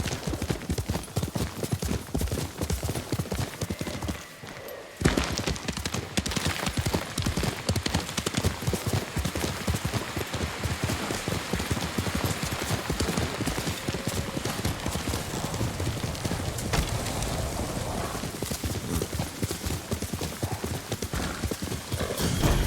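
Hooves clip-clop steadily as a horse gallops on in Ghost of Tsushima, an even, dense rhythm that runs nearly the whole time, with a brief dip early on and occasional whinnies mixed in.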